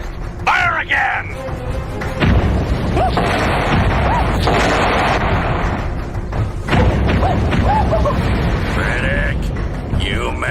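A cannon is fired again, and heavy booming thuds and rumbling blasts rise over a dense, noisy scene. Voices shout and talk underneath and between the impacts.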